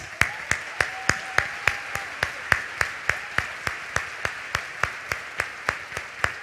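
Steady, evenly spaced clapping rings out in a church as a congregation welcomes visiting missionaries, each sharp clap distinct in a regular rhythm at moderate loudness, with no voices over it.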